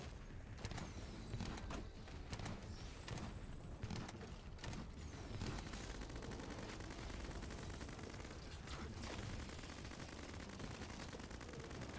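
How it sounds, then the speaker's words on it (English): A machine gun fires continuously in a video game boss fight, dense rapid bursts of gunfire with booms and mechanical clatter, loud and sustained throughout. "Well, the machine gun does go kind of crazy on bosses."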